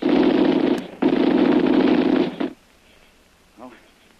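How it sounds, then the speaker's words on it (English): Machine gun fire effect in a jungle adventure radio drama: two long, loud bursts of rapid rattling shots separated by a brief gap, then near quiet with one short faint burst. "But the murderous machine gun fire finally halts their advance."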